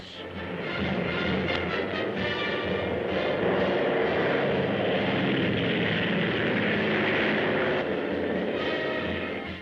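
Propeller-driven RAF fighter planes in 1941, flown by American ferry pilots on the first leg of a hop to Britain, make a loud, steady droning engine roar that continues without a break.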